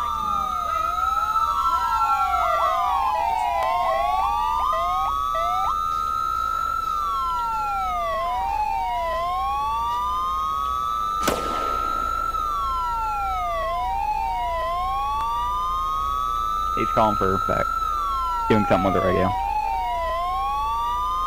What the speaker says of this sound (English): You guys can cut the sirens.